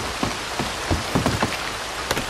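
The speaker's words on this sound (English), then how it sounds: "Wish it wasn't raining." Steady rain patters down across an outdoor scene in Red Dead Redemption 2 as evening falls, a dense, even hiss broken by a few louder drips and thumps close by.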